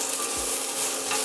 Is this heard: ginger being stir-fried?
yes